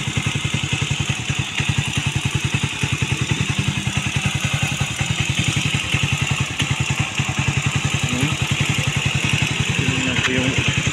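Motorcycle engine idling close up, a steady rapid putter with even pulses running the whole time at constant loudness, with a faint short sound near the end.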